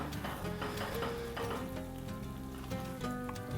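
Biryani with mace being stirred in a sizzling pot, a steady close frying hiss with soft stirring scrapes over background music.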